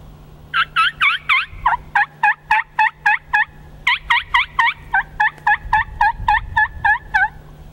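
A turkey call imitates a hen turkey, with a quick run of high kee-kee whistles followed by sharper, raspy yelps in a fast, even rhythm, loud and close with no talking.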